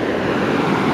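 Dense, continuous roar of ocean surf on the beach at Roads End, Lincoln City, loud and close with wind buffeting the microphone and no speech.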